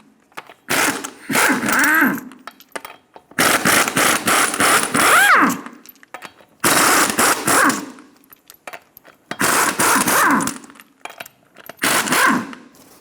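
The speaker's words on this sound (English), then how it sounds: "Using a 21mm socket," A 21mm socket on a ratchet or impact tool removes the six lug nuts from a 2000-2006 Toyota Tundra front wheel, five loud, harsh mechanical whirring bursts about two seconds each, separated by short pauses.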